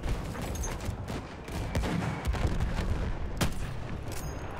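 A Martini-Henry rifle fires in the Battlefield 1 video game, with sharp gunshot cracks standing out from a constant din of distant battlefield gunfire and explosions.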